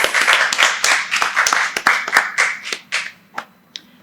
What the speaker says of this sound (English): You should give a round of applause to yourself at this moment.